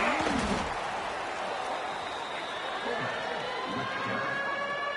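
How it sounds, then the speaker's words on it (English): Stadium crowd at a Falcons football game roars on third down, a sustained distant wall of cheering and shouting that swells and holds throughout. "The loudest jet you can think of has nothing on this crowd as they try to help the Falcons on 3rd down"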